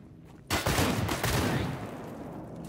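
Shotgun gunfire in Stalker GAMMA: after a quiet start, a loud burst of shots bursts out close by and rolls into a sustained crackling roar that slowly fades over the next two seconds, with no talking.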